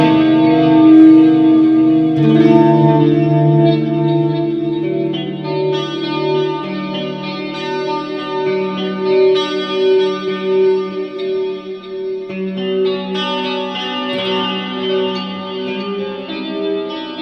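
Electric guitar plays ringing chords through a Mooer Gas Station preamp pedal with added effects, giving a thick, sustained tone with heavy reverb and chorus-like shimmer, loud and continuous with no talking.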